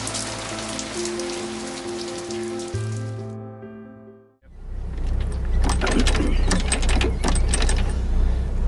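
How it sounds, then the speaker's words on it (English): Heavy rain pours down loudly and steadily on a boat at anchor off the Australian coast, a dense hiss of drops drumming on a surface after a brief tonal hum fades out. "About bloody 2 inches of rain, I think."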